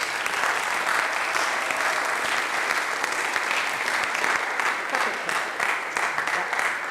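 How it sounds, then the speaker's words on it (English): A school audience gives a sustained round of applause at a college event, dense steady clapping from many hands lasting throughout at an even loudness. "give these people a great big round of applause for their wonderful work"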